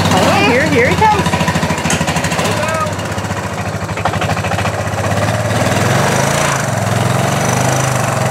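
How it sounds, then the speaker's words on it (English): A four-wheeler ATV engine putts and idles close by in a rhythmic, knocking chug while people talk over it outdoors. "He loves that four-wheeler."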